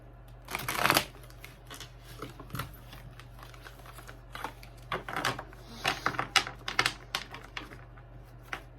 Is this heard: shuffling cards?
yes